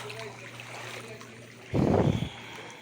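Strong floodwater current rushes past after heavy rain, a continuous watery wash with a louder surging burst near the end, heard fairly close.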